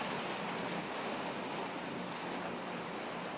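Ocean waves and wind around a boat at sea, approaching land near a harbour wall. A continuous, loud, broad roar of surf and wind buffets the microphone throughout, with no voices.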